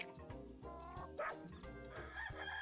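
Game sound effects from the 102 Dalmatians video game as hens are herded back to their coop: clucking and crowing fowl mixed with bursts of puppy barking, loud and repeated alongside light music.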